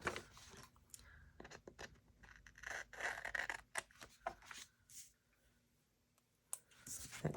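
Scissors snip through washi tape in a planner, a few close crisp clicks and crunchy cuts among quiet paper handling, faint overall.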